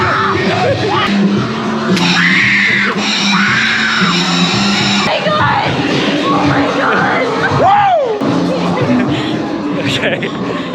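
Several people scream and yell in a dark haunted house attraction at the Worlds of Fun theme park, loud shrieks rising over agitated chatter, with one sharp rising squeal near the end.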